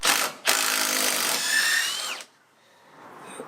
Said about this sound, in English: We then screw on the top of the bottom rail